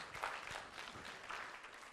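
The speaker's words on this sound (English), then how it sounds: "give yourselves a nice hand of applause for what you guys do" Faint, distant audience applause at a talk, a brief patter of scattered clapping from the room lasting about two seconds.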